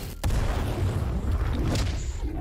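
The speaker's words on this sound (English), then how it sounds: "Just that one laser cannon." A single booming laser cannon blast in an animated fight, a loud sustained rumbling burst with a whooshing tail lasting a couple of seconds.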